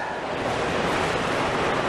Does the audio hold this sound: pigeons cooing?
no